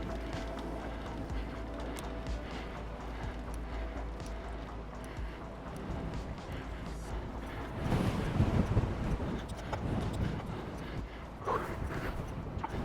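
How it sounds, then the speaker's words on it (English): A strong headwind buffets the microphone on a cross-country bike course ride in Fayetteville, Arkansas, a rough continuous rumble and rush of gusts with tyre and gravel crunching, growing louder midway, with no talk. "Big old huge headwind right here."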